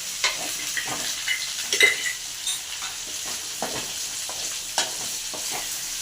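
Okra being stirred as it fries in a pan sizzles steadily, with irregular scraping and clinking spoon strokes across the pan, close and fairly loud, with no talking.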